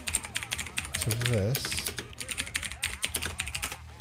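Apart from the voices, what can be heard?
typing on a computer keyboard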